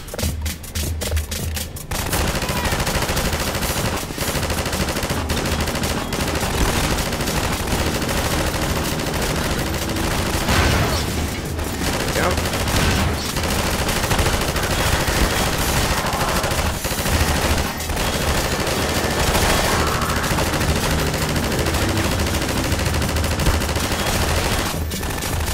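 A mounted gun in Half-Life 2 fires in long, sustained rapid bursts, loud and close, with dense automatic gunfire and echoing impacts continuing almost unbroken for the whole stretch.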